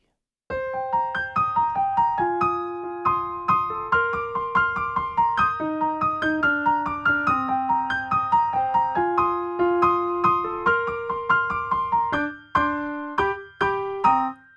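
Wurlitzer electric piano playing an iconic riff, with bright, bell-like chords repeating in a bouncy, steady pattern, clean and close, with a few last stabs at the end.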